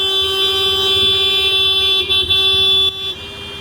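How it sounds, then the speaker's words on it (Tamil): Several vehicle horns honk over and over in heavy Ahmedabad city traffic, close and loud, with sustained tones layered over the rumble of engines and briefly broken by short gaps. "ஆரன் பாருங்கள் எந்த அளவுக்கு தரமாக ஆரன் அடிக்கிறாங்கன்னு"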